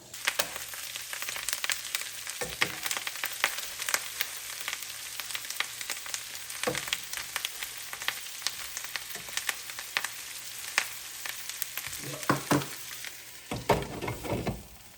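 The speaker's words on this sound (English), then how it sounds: "I'm frying this on a lower heat than I normally would" Rabbit meat sizzles and crackles steadily in butter in a pan over lower heat, a soft continuous frying hiss with a few louder bursts from stirring or shifting pieces.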